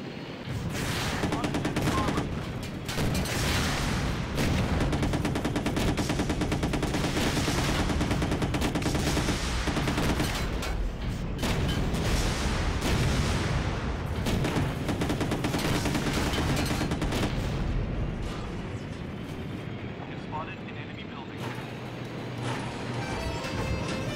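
Sustained gunfire as the barracks comes under attack in the Empires Source mod video game, with dense overlapping bursts and machine-gun rattles that keep going and ease off near the end, and voices talking over them.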